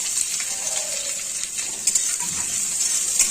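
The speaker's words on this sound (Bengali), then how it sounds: "পেঁয়াজটা লাল লাল করে ভেজে নিব।" Chopped onions fry in a pan with bay leaves and black cumin, a steady hiss filling the background while a utensil stirs them with soft intermittent scrapes; the sizzle stays close and even throughout, with no talking.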